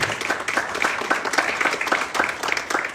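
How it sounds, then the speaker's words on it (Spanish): Congregation applauding during a Catholic Mass at a Guadalupe feast celebration in Tecolotlán, with steady, dense clapping that rises and falls in bursts throughout and no talk over it. "Fuerte el aplauso a María Santísima,"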